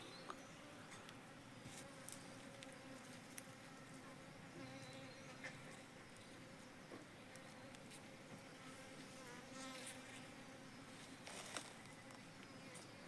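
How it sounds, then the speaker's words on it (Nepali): Honeybees forage on rhododendron flowers, a steady close buzzing hum of many insects that continues throughout with no talking. "गुराँसको एकदमै रस धेरै आउने हुनाले साथीहरु गुराँसमा एकदमै मजाले मौरी चर्छ।"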